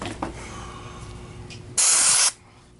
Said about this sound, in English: I'm using compressed air to blow that oil then out of the bearings.